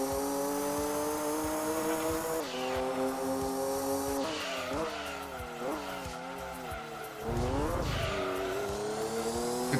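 Race cars from the Gran Turismo 2 video game roar and shift through gears, with engine pitch rising and falling and tires squealing in long skids, loud and continuous.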